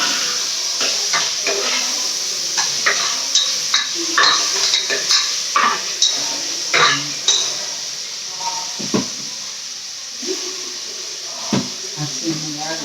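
Tomatoes go into a cooking pot of softened onions and are stirred, giving repeated close scraping and clinking of a spoon against the pot over a steady sizzle, with people talking.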